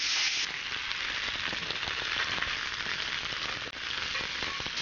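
Squid stuffed with vegetables and pancetta fry in a pan, giving a continuous close, crackling sizzle with small spitting pops and no talk.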